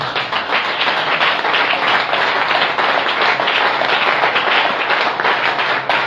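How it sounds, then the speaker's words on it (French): A church congregation at a ministers' meeting in Douala stands and applauds the elders, with dense, sustained clapping filling the room steadily throughout, loud and close, with no one talking over it. "Merci de vous lever et acclamer pour tous nos anciens."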